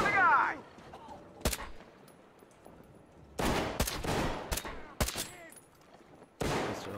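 Gunfire in the Metro Exodus video game: several sharp, loud shots and short bursts spaced across the scene, with quiet gaps and a brief voice-like sound at the start.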